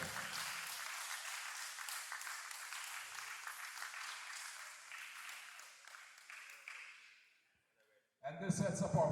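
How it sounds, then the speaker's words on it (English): An MMA event audience applauds for several seconds, dense clapping that fades into near silence before a loud burst of noise returns at the end. "Give a round of applause, ladies and gentlemen."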